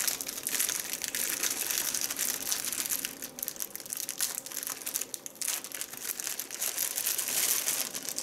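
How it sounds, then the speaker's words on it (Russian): Plastic packaging bag crinkling and crackling continuously up close as it is worked open by hand, a dense rustle with brief pauses, no talk. "О, пакетик, а в нем еще пакетик."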